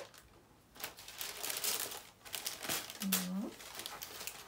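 Prada tissue paper crinkles and rustles in several bursts up close during an unboxing, with a short tonal squeak near the end.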